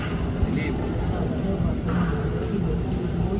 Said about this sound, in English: That's gonna be a loud plane.